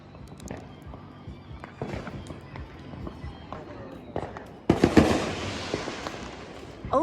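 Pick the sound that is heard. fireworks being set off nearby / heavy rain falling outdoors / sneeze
fireworks being set off nearby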